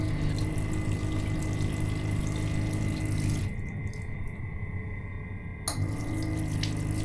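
Water gushes steadily from a tap in a train's accessible toilet, cuts off briefly, then resumes with a splashy rush into a basin, close by with no talking.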